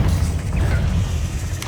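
A Confringo spell blast from Hogwarts Legacy booms loudly and steadily for under two seconds, a dense low rumble with a faint swishing streak partway through and no talk over it.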